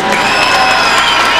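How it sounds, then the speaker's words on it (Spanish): A concert crowd claps and cheers in a short, dense, continuous wash of applause. "Para todos ellos, un aplauso por favor."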